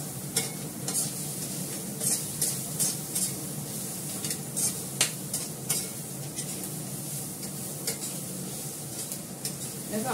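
Food frying in a pan and being stirred: a steady hiss of sizzling oil punctuated by sharp scraping and tapping strokes of a utensil against the pan, close up and without speech.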